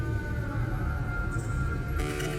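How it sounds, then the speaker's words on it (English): Murky, droning modular synth textures hum and warble continuously, with a thin high whistle appearing briefly and a burst of hiss near the end. "Just weird atmospheric modular sounds."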